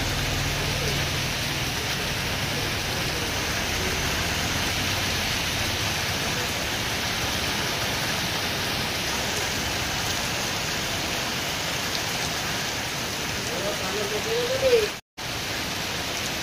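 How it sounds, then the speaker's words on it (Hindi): Heavy rain pours steadily outdoors, a loud, unbroken wash of falling water and drops on surfaces that holds constant throughout, with a brief sharp dropout near the end. "तो वर्षा पूरा जोरदार है"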